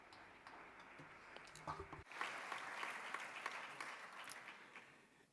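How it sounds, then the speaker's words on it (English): Audience at an Acerinox general shareholders' meeting breaks into sustained applause about two seconds in, a broad steady wash of clapping that fills the remaining seconds, after a brief quieter stretch at the start. "I would like to request a round of applause for all of you."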